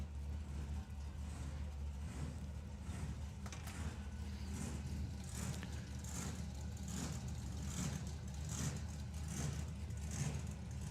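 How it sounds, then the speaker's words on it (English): Supercharged Chevy drag racing engine in the Time Traveller idling at the National Finals, a low uneven hunting rumble that pulses rhythmically and stays steady and fairly distant throughout. "you can hear the hunting noise of the blown Chevy in the Time Traveller"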